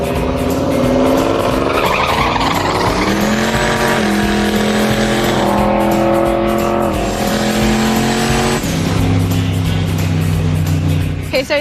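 A hot rod race car makes a drag strip pass, its engine roaring loud and close. The pitch climbs through each gear, then drops at every shift before climbing again.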